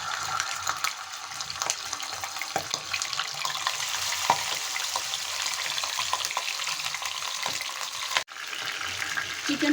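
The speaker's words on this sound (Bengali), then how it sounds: "এখন আমি একটা একটা করে চিকেনের পিসগুলো দিয়ে দিচ্ছি।" Pieces of chicken frying in hot oil in a home kitchen, a steady, close crackling sizzle with scattered pops running throughout, no talking.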